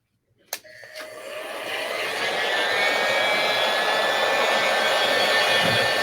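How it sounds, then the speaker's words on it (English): A heat gun switching on with a click and spinning up into a loud, steady whirring blow near the microphone while heating a craft tray, holding constant to the end. "Then I'm going to heat it up again."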